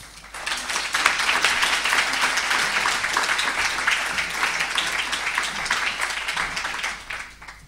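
Steady audience applause welcoming a lecturer to the stage, sustained dense clapping from a crowd lasting several seconds before fading.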